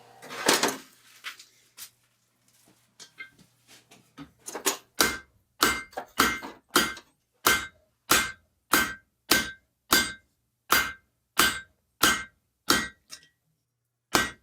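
A hammer rings on an anvil during blacksmith forging of metal, first as a few scattered taps and then as a steady series of about fifteen loud, evenly spaced strikes, each with a bright metallic ring.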